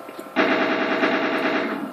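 A Doom-style chain gun in the Garry's Mod video game fires a sustained rapid burst of loud, dense automatic gunfire. It starts abruptly after a brief quiet moment and runs steadily to the end.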